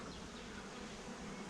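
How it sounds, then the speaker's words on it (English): Honey bees buzz steadily around an open-topped hive feeder, a continuous close, even drone with no voices present. "Look carefully, there's still a few bees inside it."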